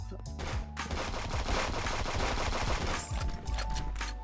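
Rapid automatic turret fire in the video game Friends vs Friends, a loud continuous burst of gunshots filling the whole moment, with brief breaks near the end and faint voices underneath.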